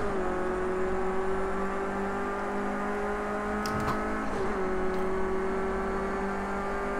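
A race car engine drones steadily in Project Cars 2, a sustained tonal whine holding pitch with a brief dip and recovery midway, accompanied by faint clicks and whirring, with no talk over it.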